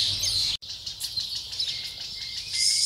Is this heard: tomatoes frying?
no